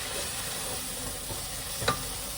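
Soft frying sizzle from cabbage in a pan, a steady low crackle with a brief clink of a utensil near the end.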